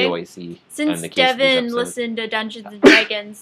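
A single sharp sneeze bursts out near the end, loud and close, cutting across a steady stream of conversational talk.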